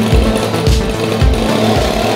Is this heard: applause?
no